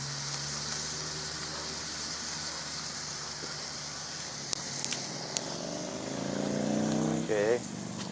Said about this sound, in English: it seems to be sizzling real well